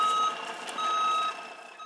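A gravel truck backing up gives out two loud, high-pitched reversing beeps, evenly spaced, over faint background noise.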